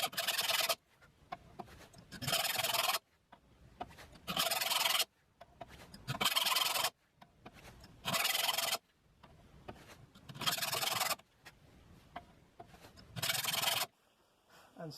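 A file rasps across hand saw teeth while re-toothing a saw, seven evenly spaced strokes of roughly a second each with short quiet pauses between, close and clear with no talk.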